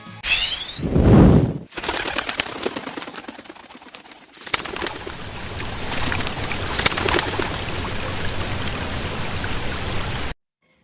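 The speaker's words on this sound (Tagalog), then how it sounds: "Ngayong araw ay magpapalipad tayo ng Kalapate." Pigeons are released and take flight above Dara Falls in Porac, Pampanga, with bursts of wing flapping near the start over a steady rushing of falling water that carries on throughout.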